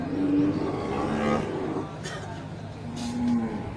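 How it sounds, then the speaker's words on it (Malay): Mother cows with their calves at a cattle farm, with a few drawn-out moos rising above a busy, murmuring background and a passing vehicle faintly audible. "terlihat sapi-sapi indukan dengan pedet super ya"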